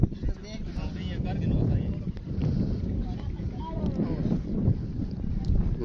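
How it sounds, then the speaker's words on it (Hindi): Cold wind blows by the water on an outdoor fishing day, a steady low rumble and microphone buffeting running throughout, with people talking over it. "बड़ी ठंडी हवा चल रही है"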